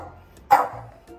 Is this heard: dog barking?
yes